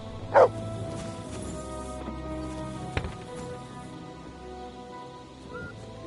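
Mutt, a dog in Kingdom Come: Deliverance II, gives one short loud bark at the start, then a few fainter yips and sounds over a quiet game-world background.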